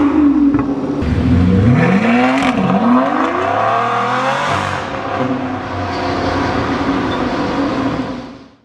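A Mercedes G63 AMG G-Wagon V8 in comfort mode rumbles loud and close, revving up and down in sweeping pitch changes, then settling into a steady drone before fading at the end.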